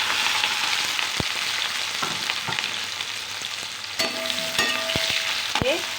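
Capsicum and onion with ginger and garlic stir-fry in very hot oil over a full high flame, a steady broadband sizzle broken by a few sharp clicks and scrapes of a spoon against the pan.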